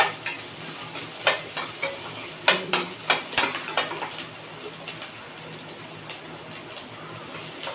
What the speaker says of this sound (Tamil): பீன்ஸ் கொஞ்சம் அப்படியே எண்ணெயில் வேகட்டும்